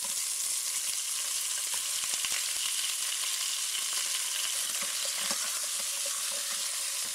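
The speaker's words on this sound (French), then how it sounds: "je vais faire saisir la viande" Meat searing in a thin film of hot oil in a saucepan, a steady close sizzle and crackle with small pops throughout, no talking.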